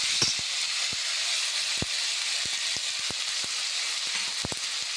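Oil spatters and sizzles steadily in a pan after tomato and cashew paste go in, a constant bright frying hiss broken by scattered sharp pops, close and with no talking.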